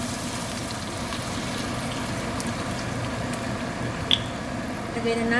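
Water is poured into a pan of browning afritada and sizzles with a steady bubbling hiss, close and continuous, with a brief clink near the end.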